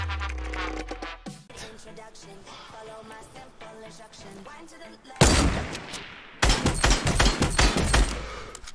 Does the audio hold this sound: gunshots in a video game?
yes